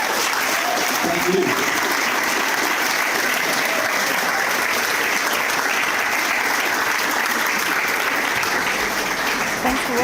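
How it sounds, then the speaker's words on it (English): Audience at a political talk breaks into sustained, loud applause that fills the whole stretch, with a short spoken thanks heard over the clapping. "how about a round of applause"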